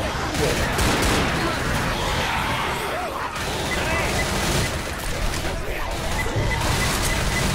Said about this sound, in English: I was shooting literally right at that.